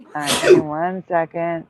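A single close, loud sneeze bursts out at the start, followed right away by a person speaking.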